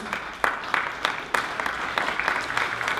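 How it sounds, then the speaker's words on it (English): Banquet audience applauding, a steady patter of many hands clapping with a few sharper claps, fairly close. "the round of applause"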